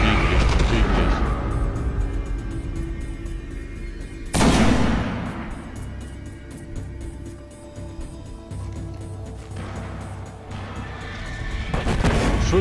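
Weapons fire in the Destiny video game on Xbox One: continuous game noise with a sharp, loud blast partway through and another burst of shots near the end.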